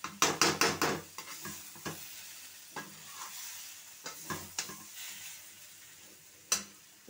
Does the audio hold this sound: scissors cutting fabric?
no